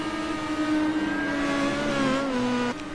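Race cars at speed, a Star Mazda among BMWs, engines droning close and loud with shifting pitch that rises, then drops sharply near the end, as though changing gear.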